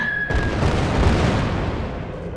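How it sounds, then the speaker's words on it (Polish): An airstrike in the video game Worms 3D sets off a heavy, close boom just after a brief tone, followed by a dense rumbling roar that stays loud to the end. "oni też mają nalot"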